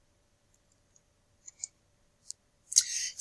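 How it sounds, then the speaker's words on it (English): A computer keyboard in a quiet room gives a few sparse, faint clicks, then a sharper key press followed by a brief soft hiss. "I'm going to hit enter."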